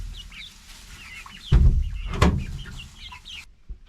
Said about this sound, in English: the chickens are getting ready to roost for the night.